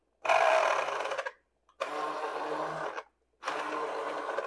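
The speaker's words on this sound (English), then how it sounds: "Now I'm thinking I might want to use my blender." A kitchen blender runs in three separate bursts, each about a second long and separated by short pauses, loud and close with a steady whirring motor tone.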